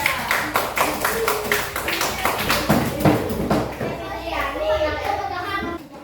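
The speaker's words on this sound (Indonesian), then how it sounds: "Berikan tepuk tangannya dulu untuk kelompok 3" A group of schoolchildren claps in a classroom, a steady rhythmic burst of applause with excited chatter and voices under it, fading into talk near the end.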